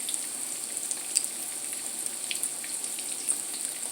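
Crab patties frying in a stainless steel or copper skillet, giving a steady soft sizzle with scattered little pops, fairly quiet and continuous, with no talking.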